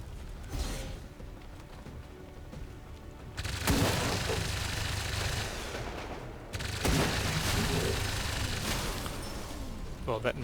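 Gunfire aimed at an Andromedon in the game XCOM 2, with a chain shot: two loud bursts of shots and rumbling impacts a few seconds apart, mixed with game sound and occasional talk.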